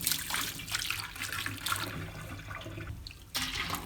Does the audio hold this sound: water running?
yes